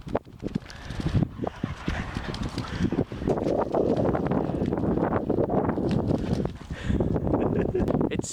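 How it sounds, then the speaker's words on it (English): Strong wind on a salt-water shore where swans gather, heard as loud, gusty buffeting against the microphone that swells and drops in uneven bursts, with rustling and a voice talking under it at moments. "It's so windy, so I don't know if you can hear me"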